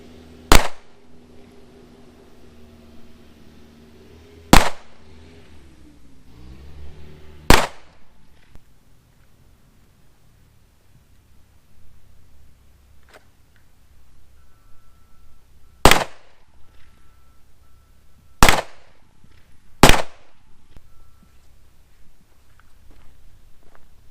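A Glock 19 Gen5 MOS pistol fires six sharp, loud shots at 25 meters, spaced irregularly with quiet pauses between them, and faint outdoor ambience in the gaps.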